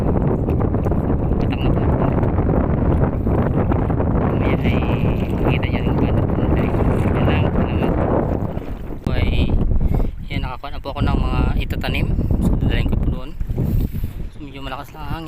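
Strong sea wind buffets the microphone with heavy, rumbling gusts, later easing into choppier bursts while a person speaks intermittently in Filipino during seaweed planting.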